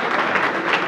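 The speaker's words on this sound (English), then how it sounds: "So give yourselves a big round of applause for that." An audience at a community event in Borough Park, Brooklyn, honoring Hatzolah applauds in a dense, steady wash of many hands clapping, loud and continuous throughout.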